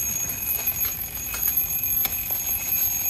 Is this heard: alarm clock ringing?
yes